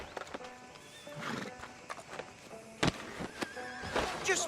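Horse in Red Dead Redemption 2 whinnies and snorts while its hooves clip-clop at a walk, close and moderately loud, with scattered game sounds and faint voices around it.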